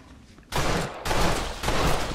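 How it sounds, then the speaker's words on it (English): Bursts of gunfire in Red Dead Redemption free roam, silence then three loud rapid volleys of shots in close succession. "I'm still just shooting the wall over here."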